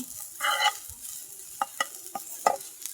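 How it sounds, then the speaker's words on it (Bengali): Potatoes frying in a pan, with a steady hiss of sizzling oil broken by several sharp stirring clinks and scrapes, close by and with no talk. "এই তো এখানে আলুগুলো ভাজি করে নিচ্ছি"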